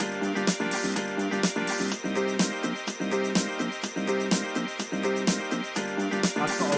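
Chopped, filtered disco house loop playing back in Ableton, a busy full-band sample with a steady four-on-the-floor pulse and clipped rhythmic stabs, moderately loud and continuous with no voices.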